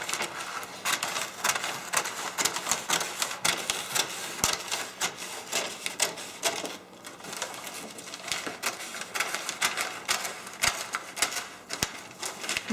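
Scissors snipping through excess gift wrapping paper with crisp repeated cuts and rustling, a busy close-up stream of sharp clicks and crinkles.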